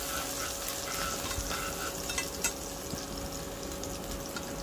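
Shallots frying in hot bubbling oil in a pan for a simple vegetarian pumpkin dish give a steady, fine sizzle. Occasional faint scrapes from stirring sound through it, and no one speaks.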